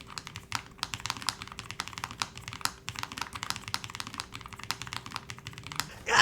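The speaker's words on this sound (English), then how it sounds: "I'll take one more listen to this keyboard again." Steady, rapid typing on a Lofree Edge low-profile mechanical keyboard, crisp close-up clacks in an even rhythm, with a brief louder noise at the very end.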